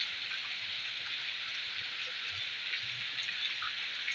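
A spiced masala gravy for a fish curry comes to a boil in a pot, making a continuous bubbling hiss that stays even and close the whole time.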